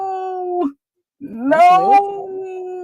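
A dog howls in two long, sustained tonal notes separated by a short pause, the second rising and wavering, loud and close, with a brief spoken exclamation at the start.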